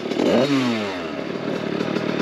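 A warm DRD Pro motorcycle engine rasps up close before a standing start, a sharp rev dropping quickly into a buzzing idle.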